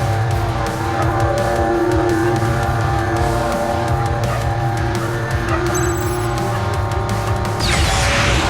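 A racing car in the video game Gangstar Mirage speeds along with a loud, steady engine roar, the tone holding at high revs, and tires briefly squealing near the end.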